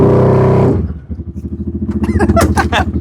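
The 800 cc engine of a fire-damaged CF Moto Z Force side-by-side runs close up, a loud steady drone that drops off, then sputters back into an uneven rhythmic idle with clattering, pulsing chugs.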